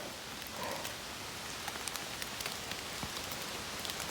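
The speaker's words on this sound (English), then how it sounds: "It's been raining non-stop for at least 3 hours now, and I mean pouring rain." Steady pouring rain falls on a forest hiking trail, a dense, even hiss with scattered drops pattering close by, continuous and alone without voices.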